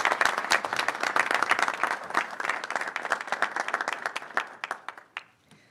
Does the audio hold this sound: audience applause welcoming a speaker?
yes